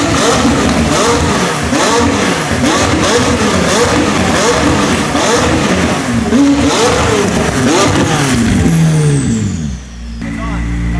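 A Ram TRX pickup, just repaired after running in limp mode, revs loudly and close, its engine note rising and falling in repeated surges before settling toward idle; people talk over it.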